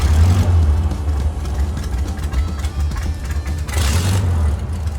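A classic car engine idles at a car culture celebration, a loud, steady low rumble with a faint rhythmic pulse running throughout, over outdoor background noise and with no talk.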